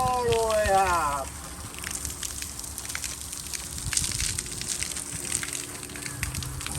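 A garden hose sprays water across a driveway, a steady broadband hiss and splatter that follows a brief voice at the start.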